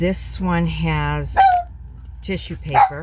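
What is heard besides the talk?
dog barking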